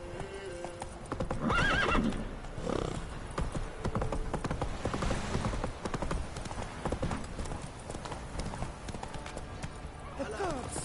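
Horse hooves clip-clop at a gallop in The Witcher 3, with a whinny; a steady rhythmic pounding runs throughout under game music and character voices.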